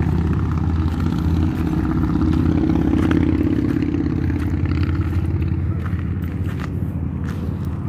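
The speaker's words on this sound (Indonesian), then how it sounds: "Nah, ada motor." Motorcycle engine droning along a hillside road, a loud steady hum that rises slightly and then holds, heard close with faint clatter, no talking.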